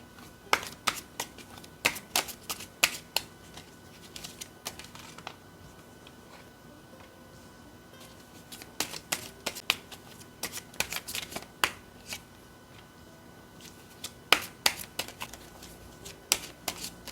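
Tarot cards are shuffled close by in quick riffling bursts of crisp flicks and snaps, with short quiet gaps between rounds and no talk.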